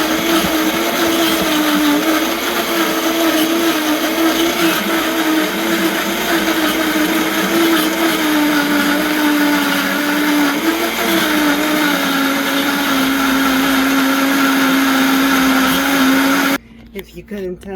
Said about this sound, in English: Now that everything's in my blender,